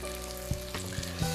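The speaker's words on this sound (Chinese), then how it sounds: "这也算是热锅凉油，一整板，哇，这算是煎制了。" Rice crust with cured meat fries in a hot pan, a steady close sizzle and crackle with a few soft knocks from the pan or utensil.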